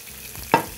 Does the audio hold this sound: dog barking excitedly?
no